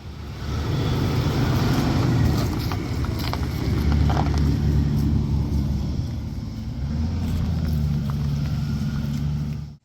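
A car called Trevor idles steadily in a driveway, its engine making a continuous low, loud rumble with no break for the full stretch, and no one speaks over it.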